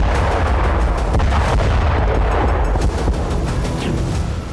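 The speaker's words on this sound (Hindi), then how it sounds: "सूमी में रूस ने फैब 3000 बम से हमला किया।" Heavy bombardment in Sumy from FAB-3000 bomb attacks, heard as a loud continuous rumbling roar of blasts and booms with wind buffeting the microphone throughout.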